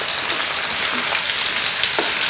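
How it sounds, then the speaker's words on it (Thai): Steady, loud sizzling of garlic frying in a pan, a dense hiss with scattered pops and crackles throughout, no voices. "อันดับแรกเราจะกระเทียมลงไปทอดนะครับ"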